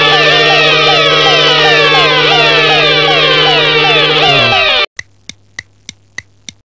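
A loud police car siren wails continuously, sweeping up and down, then cuts off abruptly and is followed by a series of short sharp clicks.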